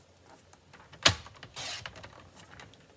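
Cardstock being trimmed to size for a layered handmade greeting card, heard as a single sharp snap of a paper trimmer followed by a short rasping slide of the blade, close up in a quiet room.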